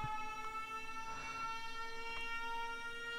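A small warning siren set up in Factorio to signal an imminent rocket launch wails steadily with sustained tones, faint and continuous over a constant hum of game machinery.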